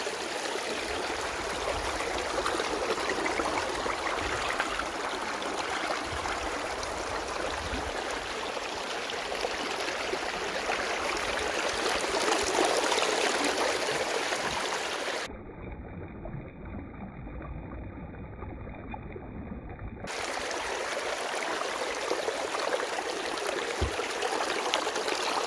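Creek water flows steadily out the bottom of a mini sluice in a gold prospecting setup between two Pennsylvania mountains, a constant soft rushing and trickling that continues alone throughout.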